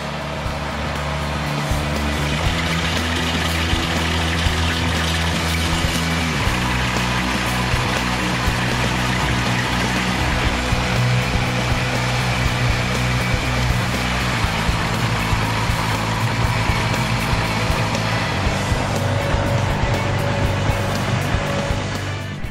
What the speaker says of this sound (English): The Ventrac power rake will be able to go through here and renovate these areas and kind of deconstruct and then re-level them